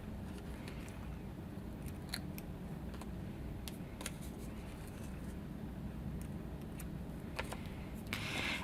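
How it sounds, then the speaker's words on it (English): Scissors trimming loose threads on a pocket-page scrapbook layout, a few faint crisp snips scattered over a quiet background hiss, close by with no talk. "I'm just going to trim off the extra threads."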